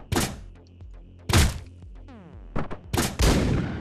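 Nail gun shots from the video game Hotline Miami 2 come as four or five sharp, punchy cracks with short metallic tails, spaced irregularly and loud, with no talking.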